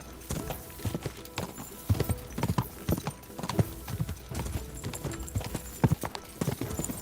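A horse's hooves clip-clop nearby in an irregular, steady stream of hollow knocks at moderate volume.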